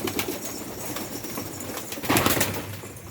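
Istanbul pigeons kept in a loft, their soft cooing and rustling close by, with a brief burst of louder flapping wings near the end.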